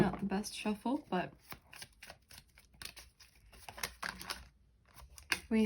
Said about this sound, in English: Not the best shuffle